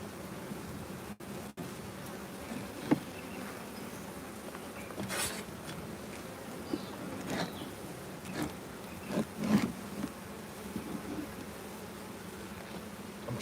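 Honey bees buzz around an open beehive during hive maintenance, a steady low hum with occasional louder passes of individual bees close by, plus a few brief clicks and knocks from handling equipment.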